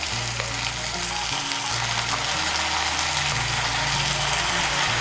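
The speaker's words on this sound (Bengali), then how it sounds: "আদা রসুন বাটাটাকে ভালো করে তেলের সঙ্গে মিশিয়ে নেব। মিশিয়ে নিয়ে একটু ভেজে নেব।" Ginger, garlic and green chili pastes fry in hot oil in the pan for Bengali bhindi, giving a steady, loud sizzle with low rumbling stirring tones underneath throughout.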